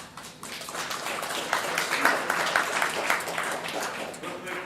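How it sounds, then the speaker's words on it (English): Applause from an audience at a youth company program regional competition, a steady, fairly dense patter of clapping lasting the whole stretch at moderate loudness, with some voice-like sound mixed in. "A round of applause."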